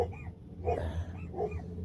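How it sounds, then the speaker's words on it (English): A dog at an outdoor lakeside gathering gives a few short barks and yips in an irregular rhythm over low background rumble, moderately close, with no talking. "it's just another dog"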